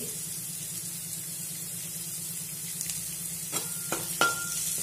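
Dried red chilies fry in a pan of oil alongside potatoes, giving a steady close sizzle with a few sharper crackles and stirring scrapes toward the end.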